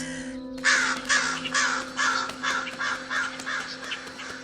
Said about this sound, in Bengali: এই কাকটা তো কানের কাছে কা কা করে ডেকে আমার মাথাটা খারাপ করে দিল।